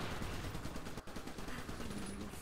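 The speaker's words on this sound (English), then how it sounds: "Flak turret, or flak gun is great" Rapid bursts of flak turret gunfire from the video game Iron Brigade crackle continuously with a dense, rattling rhythm and a brief dip midway, with no speech over it.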